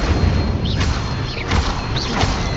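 Incendio fire spell cast in the video game Hogwarts Legacy: several short fiery whooshes with swirling, rising tones over a steady low rumble.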